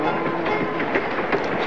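A moving train on the railroad rolls steadily and loudly throughout, with a continuous rumble and faint rhythmic clatter of wheels over the rails.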